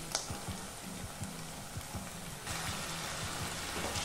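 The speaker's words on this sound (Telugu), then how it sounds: "ఇప్పుడు మనం కీమా మొత్తాన్ని ఇందులోకి వేసుకుందాం।" Mutton keema goes into potatoes frying in oil in a pan. There is a soft, steady sizzle with faint crackles, and the hiss grows denser and louder halfway through.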